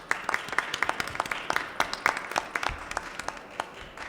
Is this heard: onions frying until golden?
no